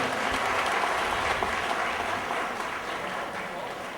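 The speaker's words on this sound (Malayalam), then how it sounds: "ഒരു നല്ല കൈയടി കൊടുക്കുക" Audience applause at a Nair community Onam gathering, a steady wash of clapping from a hall crowd, fairly loud and even, tapering slightly toward the end.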